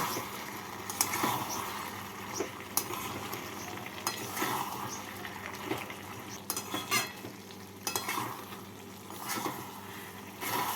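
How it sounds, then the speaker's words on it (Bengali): Fried prawns and three slit green chillies are stirred in a frying pan for a spinach and prawn ghonto, giving a continuous sizzle with repeated scraping strokes and utensil knocks, close and without speech. "চিংড়ি মাছ দিয়ে নাড়াচাড়া করে নেব"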